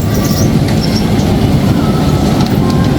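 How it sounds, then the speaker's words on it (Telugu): Close, continuous rattling and rumbling of a small amusement-park toy train at an exhibition running along its track, with occasional high wheel squeals. "బుల్లీ ట్రైన్ ఎక్కారు బుల్లి ట్రైన్"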